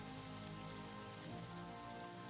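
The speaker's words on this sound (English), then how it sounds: "Is that because of the rain?" In the Strategic Mind: Fight for Freedom war strategy video game, rain falls in a steady, dense hiss that stays even throughout, with no voices.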